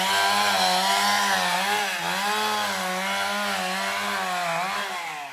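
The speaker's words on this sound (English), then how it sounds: "So the guy is still going on cutting over there" A chainsaw cuts through lumber nearby, its engine holding a loud, steady buzzing drone with slight pitch wavers as it bites into the wood, continuous throughout.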